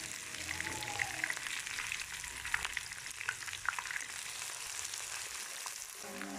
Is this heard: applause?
no